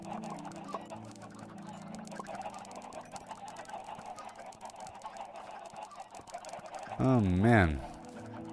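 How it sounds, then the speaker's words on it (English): Chickens in the Minecraft video game cluck and squawk in a steady busy chatter, with a louder warbling honk-like call near the end, while someone speaks briefly. "Let me go check on these chickens again."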